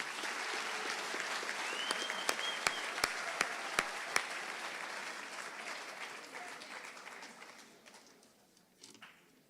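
A large school awards audience claps steadily for a group of underclassmen honorees, a dense sustained patter with a few sharper claps standing out, tapering off toward the end.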